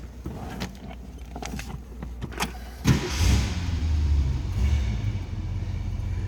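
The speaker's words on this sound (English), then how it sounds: "So let's go ahead and start this up." A 1966 Ford Mustang convertible cranks over with a few clicks and whirs before its engine catches near the midpoint and settles into a steady, close, rumbling idle.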